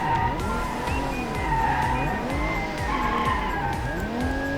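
A BMW E36 in the BeamNG Drive driving game, its engine revving hard and rising and falling through gear changes at speed, with tires squealing now and then, loud and steady throughout.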